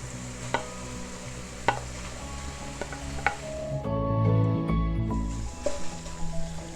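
Chopped onion goes into drained minced meat in a frying pan and gets stirred, giving a steady close sizzle with sharp spoon scrapes and clicks, the frying swelling louder midway.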